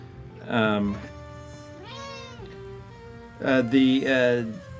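A house cat meows three times close by indoors, with a loud drawn-out call first, a softer rising and falling cry in the middle, and a strong, wavering final meow, each separated by brief pauses over faint room noise.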